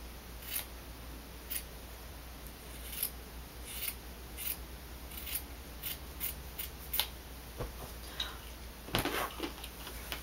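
Scissors cut through fabric for a no-sew beanie, giving quiet, close, irregular snips and rasping slices that repeat steadily over a faint background hiss.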